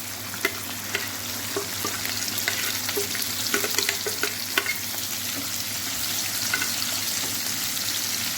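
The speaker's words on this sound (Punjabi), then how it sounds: "ਹੁਣ ਅਸੀਂ ਇਹਦੇ ਵਿੱਚ ਪਾ ਦਵਾਂਗੇ ਆਪਣੇ ਪਿਆਜ਼ ਤੇ ਹਰੀਆਂ ਮਿਰਚਾਂ ਇਹਨਾਂ ਨੂੰ ਫਰਾਈ ਕਰਨਾ ਹੈ" Onions and green chilies frying in oil in a pan, a steady crackling sizzle dotted with sharp pops and occasional stirring scrapes, close and fairly loud with no speech.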